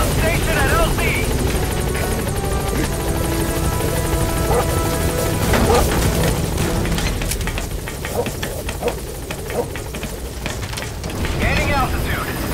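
In Metal Gear Solid V: The Phantom Pain, a helicopter arrives at a landing zone, its rotor thumping and engine roaring loudly and steadily throughout, with radio voices talking over it.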